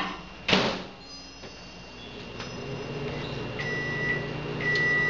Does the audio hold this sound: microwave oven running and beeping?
yes